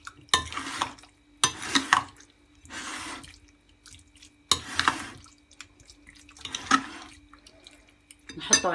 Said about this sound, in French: ونخلطو كل شيء.